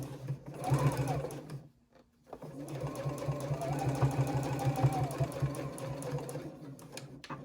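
A sewing machine stitches fabric at a 3.6 stitch length while a triangle pouch is sewn, a steady close motor whir broken by one short stop before it runs on evenly.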